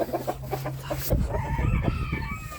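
A white rooster crows among clucking chickens in a farmyard flock, the calls loud and close with a brief hum at the start and no talk.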